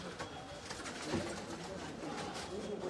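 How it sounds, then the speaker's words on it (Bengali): Pigeons land and coo faintly in an outdoor setting, their low calls partly buried under people talking nearby. "ওই যে আরো 2 কবুতর নামতেছে"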